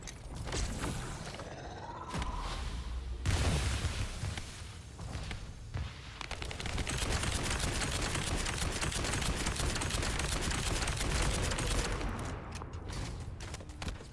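Dense, rapid gunfire bursts in the shooter game The First Descendant during a boss fight, rattling loudly for several seconds amid mechanical clanks and effects, with no talking.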